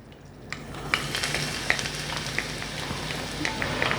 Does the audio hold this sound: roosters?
no